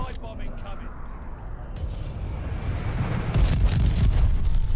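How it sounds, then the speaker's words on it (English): A glide bomb explodes during a Call of Duty battle royale match, a rumbling, crashing blast that builds and swells toward the end, heavy low-end boom with debris-like crackle, loud and close, with talk underneath. "Enemy's got a glide bomb incoming."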